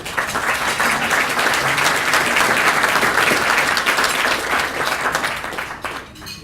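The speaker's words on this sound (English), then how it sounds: "Another round of applause for John from the Village of Green Oaks." Audience applause for a speaker at a village mayors' question-and-answer event in Green Oaks, steady dense clapping from a room of people that holds for about five seconds before thinning and fading out.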